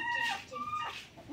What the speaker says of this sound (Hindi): कोई कोई मुर्गियाँ होती हैं जो आती हैं दाना दुना खाती हैं